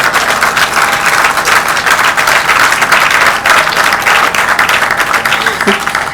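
Loud, close applause from an audience at the commissioning of the KGL medical centre, a dense, continuous patter of many hands lasting about six seconds, with some crowd murmur underneath.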